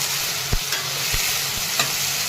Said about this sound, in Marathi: तर दोन हिरव्या मिरच्या कट करून परतून घेणार आहे